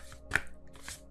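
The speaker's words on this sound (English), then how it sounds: "see if I could try to shuffle this deck." A tarot card deck shuffled by hand indoors, two quick riffling bursts of papery card noise separated by a brief pause, close and moderately quiet.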